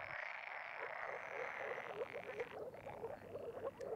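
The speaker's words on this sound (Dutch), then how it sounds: "Groene kikkers gebruiken geluid ook om hun territorium te verdedigen door in koor te roepen." A chorus of green frogs croaks continuously in a dense, overlapping din, steady and fairly loud throughout with no voices.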